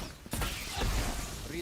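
A weapon reload in the video game Valorant: a sharp mechanical click followed by brief metallic ratcheting and clacking, close and fairly loud, with no talk.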